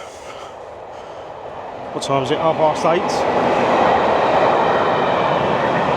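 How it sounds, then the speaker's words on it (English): A train passing near a riverside path by the Medway, a steady rising rumble and clatter of wheels that swells and holds, with people briefly talking over it. "Trains."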